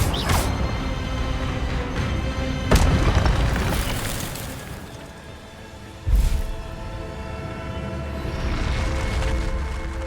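An Incendio fire spell is cast in the Hogwarts Legacy video game, bringing deep booming bursts of fiery impact. Two heavy hits land several seconds apart over a rumbling, crackling game soundscape.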